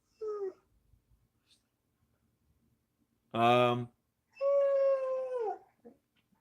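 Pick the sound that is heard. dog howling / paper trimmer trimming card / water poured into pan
dog howling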